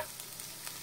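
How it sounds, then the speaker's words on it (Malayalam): Spices and chopped green chili sauté in a pan for a chickpea curry, a faint steady sizzle with a few soft scraping stirs, no voices. "ഇനി ഇതെല്ലാം നന്നായിട്ട് വഴറ്റി കൊടുക്കാം"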